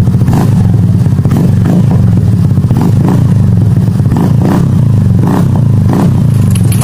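A motorcycle fitted with an aftermarket muffler revs loudly and close, a throaty rumbling exhaust with repeated rising throttle blips over a constant idle.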